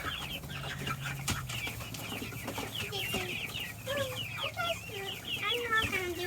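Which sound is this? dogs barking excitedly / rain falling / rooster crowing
rooster crowing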